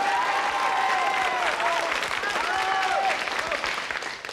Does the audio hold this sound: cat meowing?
no